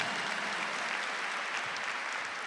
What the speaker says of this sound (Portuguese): Vale palmas também para essa, viu?